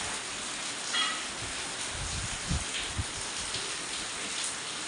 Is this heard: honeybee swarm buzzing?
no